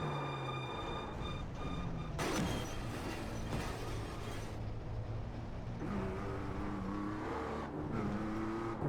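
A damaged BMW M2 CS race car in iRacing at the Nürburgring, its engine note droning and rising steadily through gear changes, loud and continuous with no talking.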